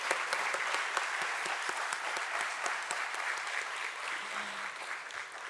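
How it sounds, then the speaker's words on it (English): Sustained applause from the audience at a stock exchange listing ceremony at BSE for JSW Infrastructure, a steady crowd of clapping hands at moderate distance with a few sharper individual claps. "Let's have a huge round of applause,"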